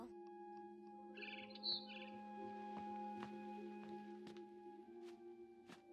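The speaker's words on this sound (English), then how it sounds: "Then I heard chirping outside my window." Barn swallow chirping in the video game What Remains of Edith Finch: faint, quick twittering calls over a steady humming ambient background, with a brief brighter chirp burst early and scattered ticks after.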